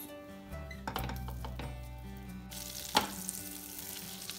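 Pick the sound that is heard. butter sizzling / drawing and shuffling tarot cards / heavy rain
butter sizzling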